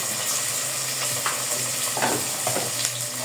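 Whole chillies sizzling in hot oil, a dense continuous frying crackle with a few faint stirring clinks, close and steady throughout.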